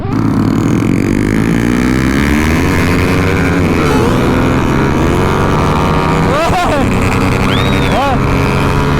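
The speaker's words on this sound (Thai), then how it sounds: "สปริงวาวร้อง" Motorcycle engine revving hard and steady at high pitch, valve springs singing, loud and close throughout with rising and falling whine near the end.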